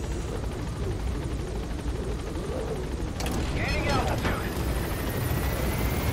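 Helicopter rotor drone in Metal Gear Solid V: The Phantom Pain, a steady rumbling thrum throughout, joined midway by sharper mechanical bursts, with a voice briefly talking over it.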